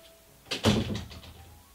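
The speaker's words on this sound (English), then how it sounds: "Can you close the door?" A door is pushed closed indoors, making one soft thump with a brief rattle, heard nearby and fairly faint against a quiet room.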